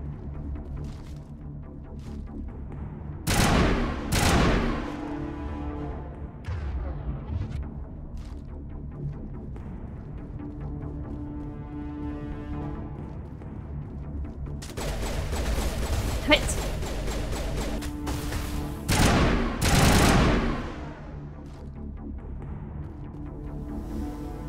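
Enemies open fire in the video game Mass Effect: a few sharp, loud bursts of gunfire early on, then a longer cluster of heavy shots later, set against quieter game ambience.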